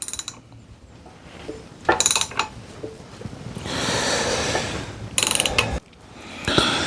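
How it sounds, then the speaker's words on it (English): Engine crankshaft of a Honda GL1000 Goldwing motorcycle being turned by hand, with bursts of close ratcheting clicks separated by a longer steady whirring stretch of mechanical rotation, no talk. "we're going to rotate the crank now a full 360 degrees and come back to that T1 mark"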